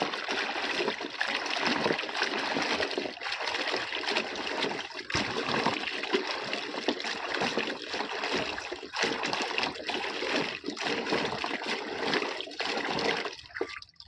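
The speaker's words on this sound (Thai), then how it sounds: "จับมุมทั้งสี่ข้างแล้วก็เขย่ากับน้ำแบบนี้นะคะ" Sapodilla fruits in a mesh bag being shaken in a basin of water, a steady sloshing and splashing wash that runs continuously and close up.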